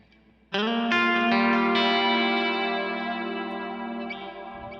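A sustained Telecaster electric guitar chord through a Kemper profile rings out, swelling with a few added notes, and washes into a long, spacious hall reverb tail.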